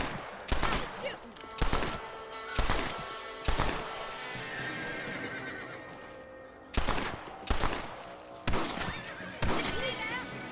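Gunfire in the video game Red Dead Redemption as rabbits are shot at: sharp, loud reports fire in two clusters of four with a quiet gap between, over a background of horse whinnies and hoofbeats.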